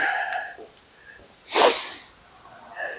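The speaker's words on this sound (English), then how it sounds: "excuse the sniffles" A close, sharp nasal sniff or snort from someone getting over a cold stands out in the middle, with a few softer breathy sounds before and after in a quiet room.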